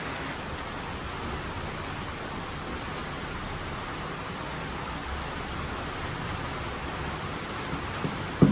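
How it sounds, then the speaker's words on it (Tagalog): Steady, heavy rain falls without pause, a dense even hiss of drops on surfaces close by, unbroken throughout, with no speech. "So, maghapon na yung ulan, no? Walang tigil, no? Tag-ulan na talaga, no?"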